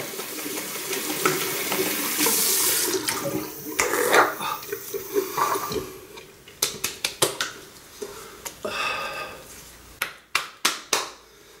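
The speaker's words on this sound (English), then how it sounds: "that's easily done with cold Austrian mountain water" Cold mountain water in Austria runs steadily from a tap for several seconds, then gives way to a series of sharp splashes and drips near the end.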